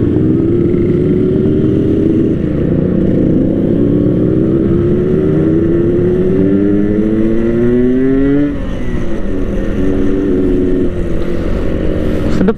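A Yamaha RX King motorcycle engine revs loudly and close by, its pitch climbing and dropping across repeated throttle sweeps, with no voices over it.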